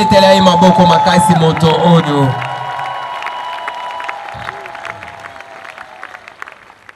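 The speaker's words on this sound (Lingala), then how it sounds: "Et nous pouvons acclamer pour lui." A crowd at an evangelism campaign cheers and applauds loudly and close, with whoops and shouting over a sustained tone, then the clapping thins and fades to scattered claps.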